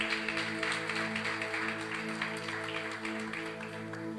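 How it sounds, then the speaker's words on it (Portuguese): A church congregation claps for the Lord, a dense, soft wash of applause sustained throughout, with steady sustained musical tones underneath. "dê uma salva de palmas ao Senhor."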